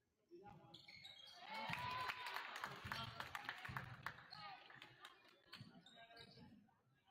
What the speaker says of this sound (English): Nice crossover dribble.